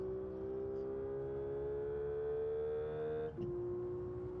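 Electric race car in Gran Turismo 7 gives off an odd, steady whining drone that climbs slowly in pitch, then drops abruptly near the end as the tone shifts down; close and unbroken, with no talking.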